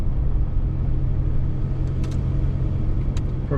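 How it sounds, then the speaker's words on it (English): A Toyota Hilux diesel rattles and rumbles while driving, heard close and loud as a constant low engine drone with road noise and a few faint clicks, no voices. "The Toyota Hilux diesels are a bit rattly."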